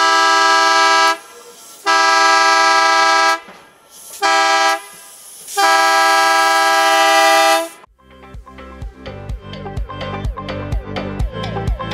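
A loud train horn blasts several long, sustained tones with brief gaps, followed by the rhythmic clatter and clanking of the train rolling past, in Leadville, Colorado.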